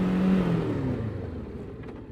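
Kove 525x street motorcycle braking hard from 50 km/h, a steady close engine and road roar that fades gradually as speed drops, with no talk over it.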